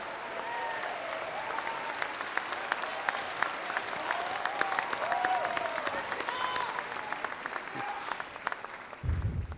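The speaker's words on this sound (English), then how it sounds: "let's give a big round of applause" Commencement audience in a large hall giving a sustained round of applause, crisp individual claps scattered through a steady wash, with faint voices and whoops mixed in before a brief thump at the end.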